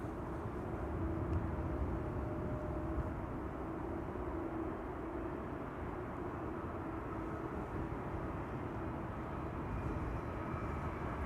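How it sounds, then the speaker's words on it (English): A Singapore Airlines Airbus A350 taxiing to runway 24 at Amsterdam Schiphol Airport gives a steady low engine rumble and whine, heard from a distance and unbroken throughout with no talk. "And the Singapore A350 has been pushed back. There it is. It's on the move now to runway 24."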